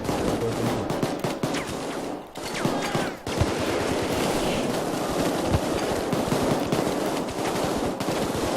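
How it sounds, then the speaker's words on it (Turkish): Sustained automatic gunfire from the heist shooter Payday 2, dense rapid bursts filling the scene almost without pause, loud and close with only brief dips between volleys. "Yamış gibi mermi harcıyorum ama fena indiriyorum."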